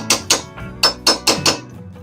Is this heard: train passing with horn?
no